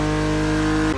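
A BMW Z roadster engine in The Crew Motorfest video game, a loud, steady engine drone held at constant pitch for about a second, close and alone, cutting off abruptly at the end.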